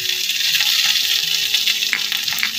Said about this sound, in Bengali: একটু মশলাটাকে ভালো করে কষিয়ে নেব।